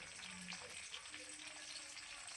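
Small seeds sizzle and crackle steadily in hot oil, a quiet, continuous frying hiss with faint stirring.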